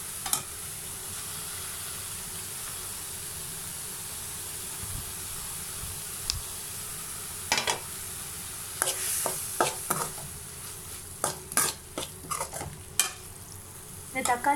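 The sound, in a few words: sautéing chopped tomatoes for squid masala in a pan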